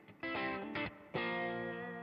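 An electric guitar played through a pedalboard on the bridge pickup with spring reverb sounds three bright, slightly gritty strummed chords, the last one ringing out and decaying.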